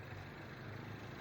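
A low, steady idle rumble from a Peugeot RCZ's 1.6-liter turbocharged engine, quiet in the background, a constant grumbling drone with no change in pitch.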